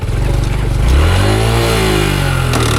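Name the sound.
Honda Trail125 motorcycle engine revving for a clutch drop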